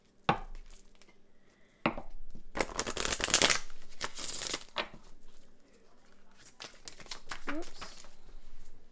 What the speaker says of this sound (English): Let me shuffle this love oracle